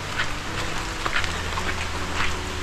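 Steady rain falling on a wet road in the Philippines, a dense hiss with scattered sharper drops patting nearby surfaces throughout, no voices.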